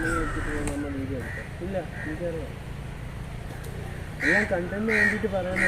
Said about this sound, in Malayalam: അത് കുറേ പക്ഷികളൊക്കെ വന്നിരുന്ന് അവിടെ വിളിക്കും കേട്ടോ